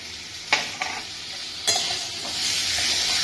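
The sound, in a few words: stirring turmeric and chili in a pan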